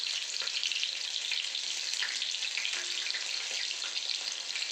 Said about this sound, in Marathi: व्यवस्थित त्याला तळून घ्यायचे आपल्याला डीप फ्राय.